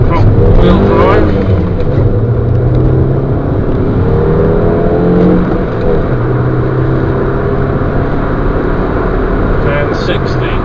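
A 2005 Mini Cooper Convertible 1.6 with front-wheel drive accelerates hard in a 0-60 run, engine revving up through rising tones with gear changes, loud and close, under steady road and wind noise.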